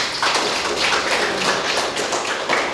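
A classroom of students applauding a classmate, a dense, steady burst of clapping from many hands lasting a few seconds, close and fairly loud.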